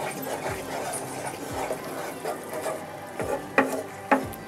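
Yogurt being stirred quickly into dhaba-style paneer masala in a pan, with soft wet rubbing and a few sharper scraping knocks of the spoon toward the end.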